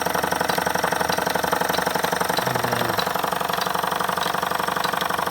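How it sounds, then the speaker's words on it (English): A Jensen #10 deluxe toy steam engine runs steadily in a workshop, giving a continuous fast mechanical chuffing and rattling whir with even rhythm, close and loud, with no talk over it. "The engine's got plenty of power, as you can see."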